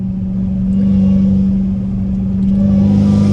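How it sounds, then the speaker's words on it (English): A Dodge Challenger Hellcat Redeye's exhaust drones in a deep, steady rumble under light throttle, swelling slightly toward the end, with no talk. "gas it a little bit where you can hear the exhaust"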